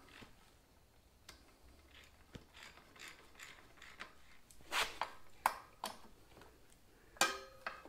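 A hand ratchet clicks as it tightens the front axle on a Honda Africa Twin motorcycle, giving short quiet bursts of pawl ticks with metallic pings and clinks. It sounds close but soft, with no talk.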